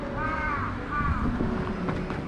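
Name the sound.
crow cawing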